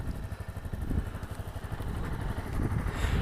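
A Honda CRF250L single-cylinder motorcycle engine idles close by with a steady low, pulsing thump that runs throughout.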